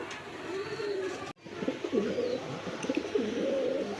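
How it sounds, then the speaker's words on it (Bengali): Pigeons in a show cage coo repeatedly in soft, throaty, overlapping calls, close and steady, with a brief cut partway through and no talking. "শো খাঁচায় আনলে অনেক কবুতর ডাকে"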